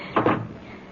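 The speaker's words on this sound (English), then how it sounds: "Well, now, Cat, anytime you're ready, the door is open." A door opens in a radio drama scene: two quick, close wooden clunks, one right after the other, then a quiet room with no voices.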